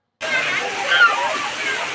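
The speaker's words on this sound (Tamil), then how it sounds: "ஆனால் அருவியில் தண்ணி கொட்டிக்கிட்டு இருக்கு." Steady, broadband rush of a waterfall pouring down at a hill-country falls, loud and continuous for the whole clip with no break.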